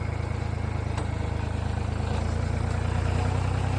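Chinese tractor backing up off uneven ground after storm damage, its engine running with a steady low throbbing rumble, close and constant, alone without talk.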